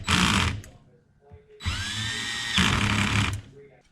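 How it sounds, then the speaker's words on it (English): A power drill runs down the clutch weight bolts on a Yamaha Grizzly 700 during a modified clutch install, two close whirring bursts separated by a short pause and brief clatter. "So I think I'll buzz these down with the drill."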